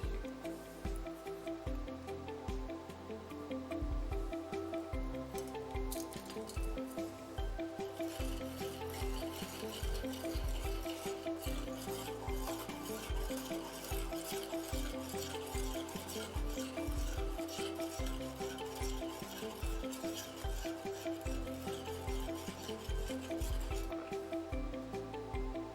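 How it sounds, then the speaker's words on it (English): A spoon stirring salt into a bowl of water, with steady scraping and swishing that repeats throughout under a continuous tonal backdrop. "we choose one of the salts and we dissolve a spoon into the bowl"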